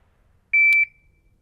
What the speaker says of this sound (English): when I hear the beep, I'm gonna act like the gun just went off